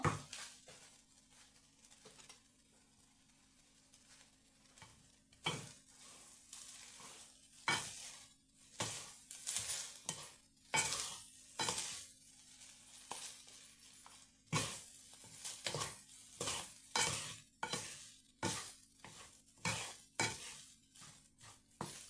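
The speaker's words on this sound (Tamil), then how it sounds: "கரண்டியால் இப்படி கிளறி கிளறி விட்டு விடுங்கோ" A ladle stirs kottu roti frying in a pan, making repeated scraping and clattering strokes that grow busier and more regular over a low, steady sizzle, with no talking.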